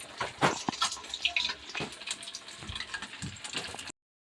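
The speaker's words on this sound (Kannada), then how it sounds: "ಫಿಶ್ ಫ್ರೈ ಮಾಡ್ತಾ ಇದ್ದೀವಿ." Fish frying in a pan in a home kitchen, a steady close crackle and sizzle with bursts of spattering, running alone without talk.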